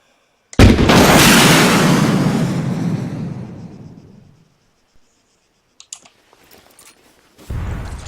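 A PCML missile launcher fired at a building about 800 metres away in Arma 3: a sharp launch crack swells into a long roaring rush that fades over several seconds, then small clicks and a distant muffled impact.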